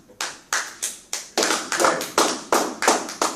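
A church congregation applauding Jesus, with about ten firm, evenly spaced claps from many hands in unison, loud and close, growing slightly fuller midway.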